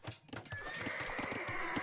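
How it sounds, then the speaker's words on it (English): Horses in the Age of Empires video game neigh and whinny while dying, a sharp whinny over quick clip-clop hoof thuds, fairly faint and brief, with no talking. "Oh, the sound of horses dying."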